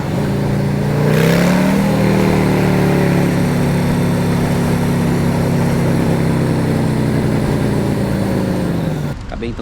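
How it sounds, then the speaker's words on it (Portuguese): A motorcycle arrives with its engine droning loud and close, its pitch rising briefly and then holding a steady hum before cutting off near the end. "Acabei então de chegar com a motoca"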